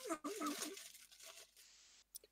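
Crinkly paper wrapper rustles and crunches in short bursts, close to the microphone, with brief talking at the start and a couple of sharp crackles at the end.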